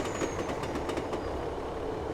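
Steady rumbling roar of a simulated Class 150/2 diesel multiple unit running in Train Simulator 2018, a continuous broadband drone with faint rhythmic clicks, close and even throughout, no voices.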